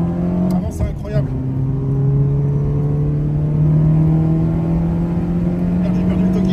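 Citroën AX GT engine droning steadily on a circuit in second gear, a smooth rising tone as throttle is gently added, heard from inside the car with a person talking over it.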